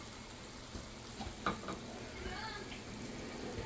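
Gourd, capsicum and onion sauté in a pan for an egg dish, giving a soft, steady sizzle with a brief stirring scrape near the middle.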